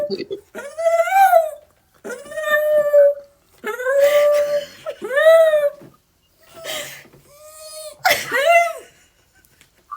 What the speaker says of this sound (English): T Goddess, the dog is going crazy right now.